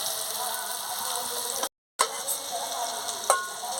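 Panch phoron spices crackle and sizzle in hot oil for a fish head curry, a steady close frying hiss broken by a brief silent gap and a sharp pop near the end.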